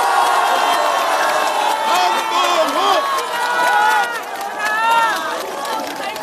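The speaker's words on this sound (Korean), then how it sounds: "큰 함성과 박수 부탁드리겠습니다" A crowd of citizens at an outdoor political rally in Anseong cheers and applauds loudly, with whoops and shouts rising and falling over continuous clapping and scattered voices throughout.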